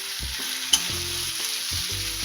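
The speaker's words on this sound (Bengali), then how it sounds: "টমেটোগুলো একটু আমরা এইভাবে খুন্তি দিয়ে ম্যাশ করে দেবো" Tomatoes fry in oil in a pan for a Bengali potato curry with paanch phoron and are mashed with a spatula. The sizzle is loud and close, one sharp scrape cuts through it, and tonal music plays underneath.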